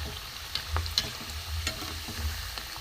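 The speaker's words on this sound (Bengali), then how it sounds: "3টে 4টে একসাথেই দিয়ে দেবো, একটু লাল করে ভাজবো" Three or four malai chop pitha fry together in hot oil, giving a continuous close bubbling sizzle with a few soft ticks and pops, and no talking.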